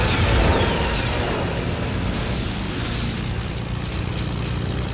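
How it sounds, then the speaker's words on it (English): A propeller airplane in the Fortnite battle royale game drones overhead as a steady, loud, broadband engine roar that holds for several seconds without pause. There is no talk. "Oh, guys in an airplane."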